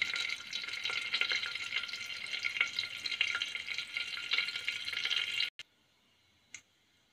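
Cumin seeds sizzling and crackling in hot oil in a pan, a bright, busy frying hiss heard close for about five seconds before cutting out to near silence, followed by one faint click.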